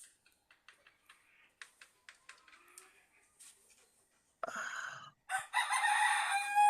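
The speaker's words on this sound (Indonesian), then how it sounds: "Suara ayam itu." A rooster crows loudly and close by, two strong bursts in the second half, after a run of faint ticking and small clicks.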